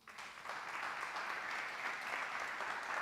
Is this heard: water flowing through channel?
no